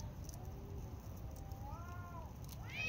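Cats at a fishing and cooking spot meowing faintly in a few thin, drawn-out cries over a steady low background hum.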